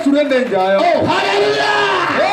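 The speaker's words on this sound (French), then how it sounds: "Acclame Jésus très fort là" A church congregation cheering and shouting acclamations to Jesus during a Friday night sermon, a loud close mass of voices whooping and crying out together.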